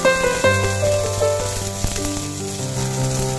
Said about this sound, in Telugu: దాంట్లో కొద్దిగా ఆయిల్ వేసుకొని పచ్చిమిరపకాయలు వేయించుకోండి